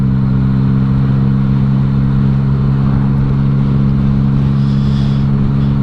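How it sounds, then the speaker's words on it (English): Cars on the Isle of Man TT course roll past at a steady 30 in a 50 limit, a constant loud engine drone with a brief rise near the end, no talking. "these cars are doing 30 for no reason"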